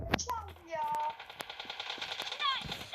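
Rapid automatic gunfire from the video game PUBG crackles in quick bursts over about three seconds, with short sharp shots and a voice talking over the action.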